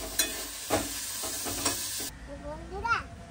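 Cabbage fries in a pan, with a steady sizzle and a few sharp scraping stirs in the first two seconds. The sizzle then drops off and a voice briefly speaks nearby.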